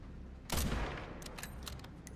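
A burst of gunfire in a Resident Evil game with Grace Ashcroft: one loud shot followed by a ringing tail and several lighter rapid clicks and pops, close and without talk.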